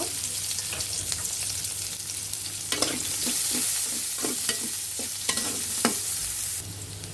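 Chopped onions sizzle loudly in oil left over from frying fish, with a series of quick scraping stirs against the pan over a constant close frying hiss and no talking.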